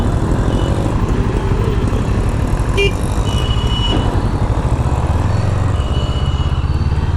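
A CF Moto 650 NK BS6 motorcycle pulls away in sports mode, its engine a loud, close, steady throbbing drone that rises slightly toward the end.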